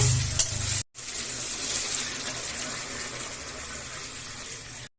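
A spice paste with chopped tomato and salt fries in a pan for a home fish curry, a steady close sizzle and hiss broken by short cuts at the start and end, with no talking.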